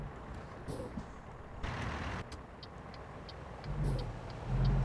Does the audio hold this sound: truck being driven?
yes